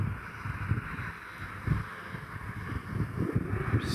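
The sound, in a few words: wind blowing into microphone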